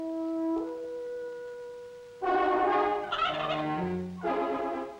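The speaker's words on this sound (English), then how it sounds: "Pembrokeshire turkeys." Pembrokeshire turkeys gobble in a loud, warbling chorus of several overlapping calls, with a tonal hum audible before them.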